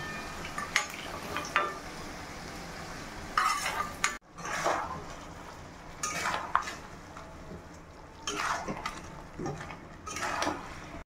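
Fried potatoes are tipped into a pot of cooking chicken and stirred, metal spoon scraping and clanking against the pot over a low sizzle, with a sharp clatter partway through.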